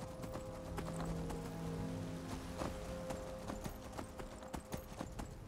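A horse in the video game Skyrim trots with steady, close clip-clopping hooves in an even rhythm, with no talk over it.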